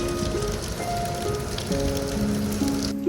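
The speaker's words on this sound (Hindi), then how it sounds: "मानसून की वजह से लगातार बारिश हो रही थी" Heavy monsoon rain pours at a station in Rishikesh, a dense, steady hiss of drops on surfaces that continues throughout with faint tonal sounds beneath.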